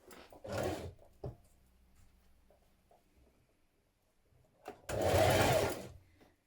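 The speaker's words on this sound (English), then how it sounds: "you're going to stitch this to the sleeve band" A sewing machine stitches a gathered sleeve band for a top in two short loud runs of rapid mechanical whirring, separated by quiet handling sounds.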